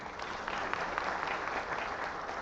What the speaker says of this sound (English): let us give him a big clap